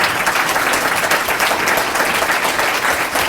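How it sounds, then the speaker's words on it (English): An audience at a student council leadership summit applauds high school class officers with dense, even clapping that holds throughout at close range. "Let's give them a round of applause."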